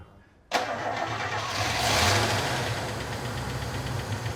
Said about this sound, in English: What a sound little engine that is.